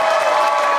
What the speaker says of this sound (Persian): بله تشویق کنید